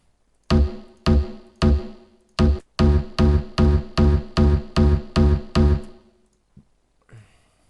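Six FL Studio basses layered together play a rhythmic run of about twelve short, heavy notes with deep low end and bright harmonic tops, the pattern tightening into rapid repeats before stopping; no talking.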